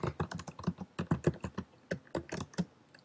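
Computer keyboard typing up close: a quick series of crisp key clicks in irregular bursts, with a short pause midway, quiet and alone with no talk.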